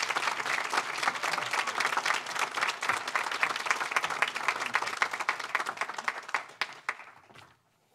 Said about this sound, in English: a big round of applause to Senator Andrew Gonardis